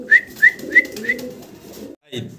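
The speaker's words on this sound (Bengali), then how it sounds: "রেড কালারের দেশি এক জোড়া বোম্বাই কবুতর" A pair of red desi Bombay pigeons coo nearby in four quick, evenly spaced calls over a low murmur, followed by a short break and one softer call.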